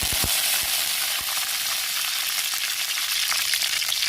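Urad dal and curry leaves sizzle in hot oil, a loud, constant broadband hiss with a few sharp crackles and pops near the start, then a smooth steady fry with no voices.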